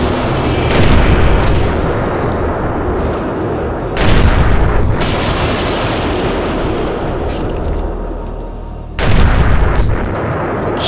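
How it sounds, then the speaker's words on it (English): Grenades explode in the video game Eternal Darkness, three loud booming blasts several seconds apart, each with a long rumbling decay. "hitting him with a grenade will hurt you, as well as being a phenomenal waste of your grenades"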